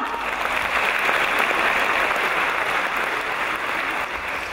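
Audience applause welcoming a singer to the stage at a live concert in an opera hall: dense, steady clapping from a large crowd, loud and continuous throughout.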